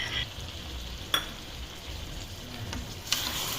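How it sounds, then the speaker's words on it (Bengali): Chicken vindaloo coated in spices is stir-fried in a pan, at the stage just before lime juice goes in. A steady close-up sizzle carries a couple of sharp scraping stirs, with no voices. "এখন সমস্ত একসাথে কষে নিতে হবে। মশলা সমেত চিকেন প্রায় কষে এসেছে।"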